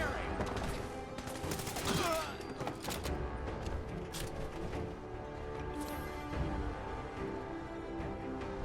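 Rapid gunfire in the Fallout 4 video game, a sustained fusillade of overlapping shots and bursts with game music and ambient noise underneath, steady and fairly loud throughout.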